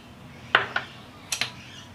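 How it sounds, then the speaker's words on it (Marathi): A metal sieve holding flour, custard powder and powdered sugar is knocked in a home kitchen, giving four sharp, close metallic clinks in two quick pairs over quiet background. "हे सर्व मी चाळून घेणार आहे।"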